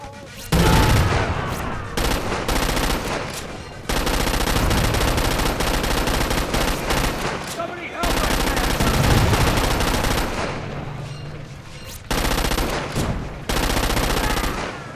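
Gun turret machine gun fire in the Crackdown 2 video game: loud, sustained automatic bursts in several long volleys separated by brief pauses, close and harsh.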